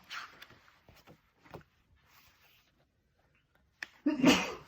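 Quiet rustling and soft breaths, then a single sharp, loud sneeze bursts out close by near the end.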